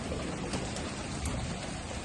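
Rain falling outdoors, a steady close hiss of drops with occasional louder patters, continuous and without voices.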